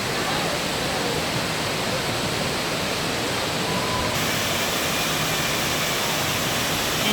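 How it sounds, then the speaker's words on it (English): Steady, dense rush of falling water from the Cascade waterfall inside the Opryland Hotel's indoor garden, constant and close with no breaks, filling the whole space. "here's another beautiful view of that waterfall through all this beautiful jungle here"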